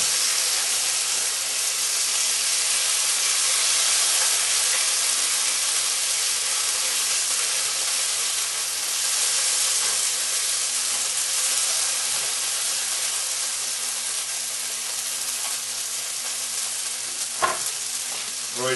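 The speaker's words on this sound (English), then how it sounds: "Hear them sizzle?" Diced potatoes for Greek diner-style home fries sizzle loudly and steadily in a hot pan, a continuous close frying hiss with a brief clink near the end.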